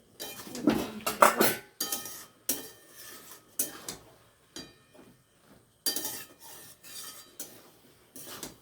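A metal lid comes off a cooking pot of simmering vegetable curry, with sharp clanks and scraping rattles of metal on metal in irregular bursts, close and fairly loud.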